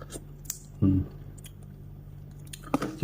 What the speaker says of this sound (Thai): ลองชิมสักหน่อยครับ